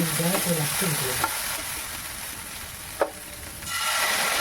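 Potato noodles being stirred in a pan with chilli powder and chopped coriander, a soft steady scrape and sizzle with a couple of sharp utensil knocks, close and moderately loud, no talking.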